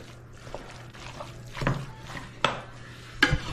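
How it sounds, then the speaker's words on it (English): Tomato sauce gets stirred into Southern Italian baked rice, soft wet squelching with a few spoon clinks against the dish, close and fairly quiet, no speech. "Be sure to mix this well."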